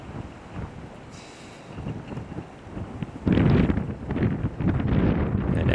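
Strong wind buffets the microphone outdoors at a curling match, a steady broadband rush that surges and grows louder partway through, with no talk over it.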